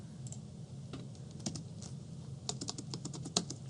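Computer keyboard typing during a C++ programming lesson: irregular bursts of crisp key clicks, close and fairly quiet, with no talking.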